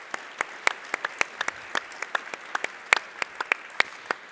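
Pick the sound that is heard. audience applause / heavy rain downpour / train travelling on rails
audience applause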